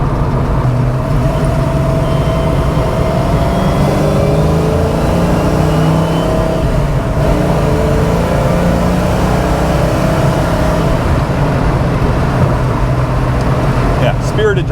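A car fitted with a Mike Maier power steering kit, driven spiritedly with its engine revving and droning steadily and loudly throughout, with road and wind noise mixed in.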